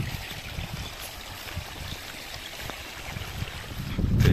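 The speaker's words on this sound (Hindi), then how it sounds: "ये इधर अपने धनिया में पानी चल रहा है अपना" Irrigation water running through channels into a coriander field on a farm, a soft, steady trickle and gurgle heard up close outdoors, with a brief louder rush or wind buffet at the very end.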